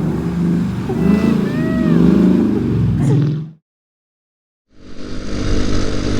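Small Grom-clone mini motorcycle engine revving in cold weather, loud and close with rising and falling revs, cutting out abruptly into silence before the engine noise returns, with voices shouting over it.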